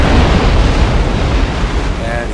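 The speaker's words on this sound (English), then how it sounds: "He hits him square with several mortars from the bomb catches." Mortar shells from bomb ketches burst on a warship during a Napoleon: Total War naval battle, a loud, dense, continuous roaring rumble with faint voices underneath.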